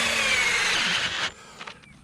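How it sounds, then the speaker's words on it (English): A cordless drill whines loudly as it bores into wood, its pitch sliding down under load before cutting off, followed by a couple of brief rattles. "This is a lot of torture I'm putting through to use this drill"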